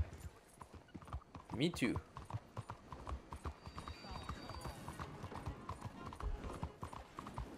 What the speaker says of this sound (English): That's literally not where I'm aiming my horse